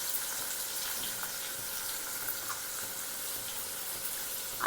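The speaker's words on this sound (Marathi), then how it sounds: "आता आपण कांदा ना छान भाजून घ्यायचा आहे, गोल्डन कलर येईस्तोपर्यंत." Onion frying in hot oil with garlic and asafoetida, a steady soft sizzle with faint crackles, close and continuous without a break.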